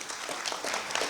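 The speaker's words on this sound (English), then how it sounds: "you can give yourself a round of applause" Brief audience applause at a peace and brain-based education conference, a short burst of many hands clapping at moderate, steady volume.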